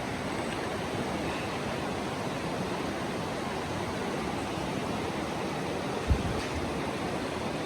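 A river flowing through the Grand Canyon makes a steady, dense rush of water that holds level throughout, with one brief soft knock near the end and no voices.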